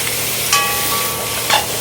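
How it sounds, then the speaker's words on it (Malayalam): A spoon stirs crab curry with crushed black pepper in a pan, giving two brief scraping strokes about a second apart over a steady low sizzle. "എന്നിട്ട് അതൊന്ന് ഇളക്കി കൊടുക്കുകയാണ്"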